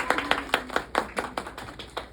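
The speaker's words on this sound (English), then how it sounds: "Give a big round of applause." Small audience at an author event giving a brief round of sparse, distinct claps, a few hands clapping at a steady quick rhythm, fairly close and moderately quiet.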